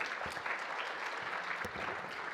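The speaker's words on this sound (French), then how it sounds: "On peut l'applaudir." Audience applause at a French public lecture and discussion event, a steady, dense wash of many hands clapping that continues without a break.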